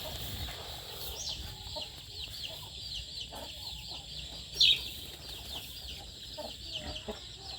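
Chickens cluck softly in the background of an outdoor farmyard near a cattle pen, with faint scattered calls and one brief sharper squawk midway.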